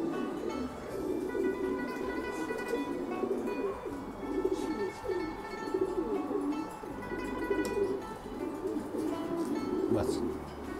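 Pigeons and doves in a pigeon loft coo in soft, repeated, low throaty phrases, with steady indoor murmur and occasional faint chirps, and a person talking over them at times.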